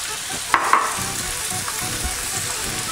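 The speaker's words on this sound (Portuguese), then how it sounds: "E agora vamos refogar isso aqui por cerca de 6 a 7 minutos." Pre-cooked carrots and bell peppers sautéing in a pan, a steady close sizzle throughout, with a couple of sharp utensil clinks near the start.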